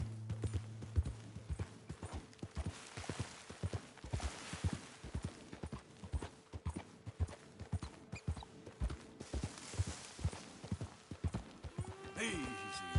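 Horse hooves clip-clop in a steady trotting rhythm while riding in Red Dead Redemption 2, with a rider's voice coaxing at times and an occasional snort or whinny, the hoofbeats moderately close throughout.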